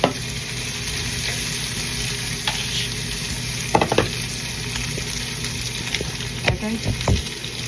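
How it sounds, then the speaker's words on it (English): Seasoning blooms in hot oil with a dense steady sizzle, broken by a few clattering knocks and scrapes of stirring toward the middle and end, close by and without talk. "It's blooming the seasoning. Alright, and then we're gonna stir it up."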